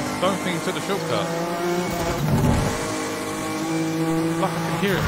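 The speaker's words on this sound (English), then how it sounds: "Is that just the echo of my car? It's the echo of my car." A racing car's engine drones and echoes in Need for Speed The Run, a sustained hum with shifting pitch and a brief surge near the middle, with a voice talking over it.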